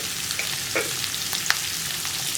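Sliced onions with salt sautéing in a pan, a dense steady sizzle with occasional soft scrapes of the spoon as they are stirred, close and continuous without speech.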